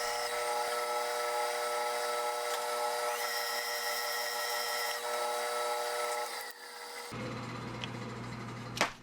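A power tool cuts a chamfer into the center hole of a handmade left-hand-threaded nut for a John Deere 110 tie rod, a steady high-pitched grinding whine that runs unbroken, then shifts tone and ends with a sharp close clack.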